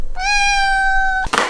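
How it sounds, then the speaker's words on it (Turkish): A house cat gives one long, clear, tonal meow lasting about a second, close and loud, followed by a brief rustle; no talking is heard. "Şu an bütün kedilerim bağırıyor."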